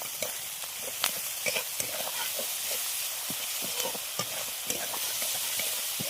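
Onion and garlic frying in a pan in a village kitchen, a steady bright sizzle with scattered crackles and soft stirring scrapes throughout, close and moderately loud, no voices.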